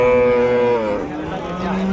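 Cattle at a busy village cattle market moo in a drawn-out, nearby call that bends downward midway, with the crowd's murmur and other animals underneath.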